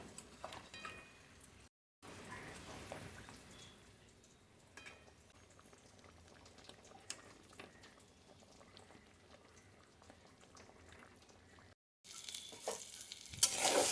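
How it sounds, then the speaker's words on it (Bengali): Fish poured into simmering curry in a home kitchen, giving a steady soft sizzle and bubbling with light stirring scrapes, broken by two brief silent gaps and ending in louder clatter. "ধীরে ধীরে সব মাছগুলো আমি ঢেলে দেবো"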